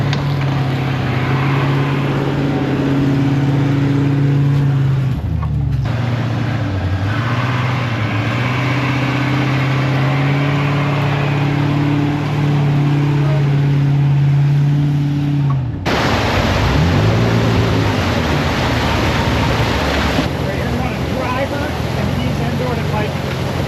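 Land Rover engine drones while crawling up and down a ski hill, with steady low engine tones that shift as the throttle changes and a rougher stretch near the end, voices talking intermittently over it.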